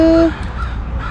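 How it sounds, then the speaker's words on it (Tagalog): Crows caw a few times in a lakeside park, the calls moderately distant and spaced apart over a low background hum. "there's lots of birds"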